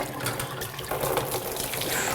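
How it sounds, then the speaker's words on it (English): Hot water runs from the tap into a big laundry tub, a steady close splashing rush that fills the whole moment without any voices. "That is hot water that's coming out of that."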